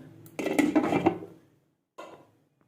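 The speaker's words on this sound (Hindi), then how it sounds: "ठीक है, मैं इसको अब कवर अप कर रही हूँ।" A metal lid goes onto a pot of potato and pea curry with a clattering scrape, followed a moment later by a single lighter knock as it settles.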